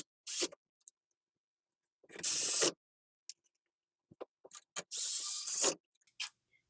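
Screws are driven into the main controller board of a Canon imageCLASS MF4770n printer, producing several short ratcheting bursts of a screwdriver, close and crisp, separated by silences and small clicks, with no speech.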